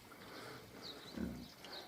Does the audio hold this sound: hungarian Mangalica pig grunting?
yes